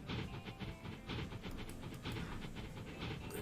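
A train in the video game Transport Fever 2 rolls along with a steady rumbling hiss and a loose rhythm of rail clicks, loud and continuous for the whole stretch.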